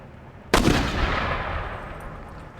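Musket volley in the strategy game Empire: Total War, a single sharp massed crack followed by a long rolling echo that slowly fades, loud and alone.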